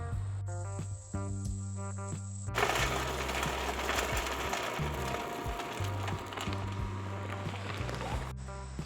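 Wood pellets poured into the hopper of a battery-powered portable Pit Boss grill, a dense rattling rush lasting several seconds, framed by a steady mechanical hum before and after.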